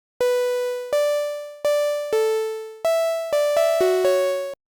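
A bright synthesizer pluck patch in Serum, modeled on a track's lead, plays a short melodic phrase of about nine crisp, sharply decaying notes with no voice over it.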